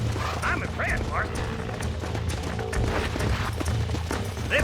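Horse hooves clip-clopping in the Western video game Red Dead Redemption, a steady trotting rhythm under game music and ambience, with a voice speaking over it.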